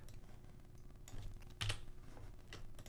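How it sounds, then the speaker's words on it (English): Typing on a computer keyboard, a quiet run of soft clicking keystrokes with a couple of firmer taps near the middle, close by and with no voices. "and here simply type"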